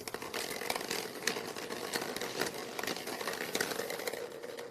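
Continuous clattering rattle of hard draw balls tumbling and knocking together as they are shuffled for the UEFA Champions League draw, steady and close, with no voices.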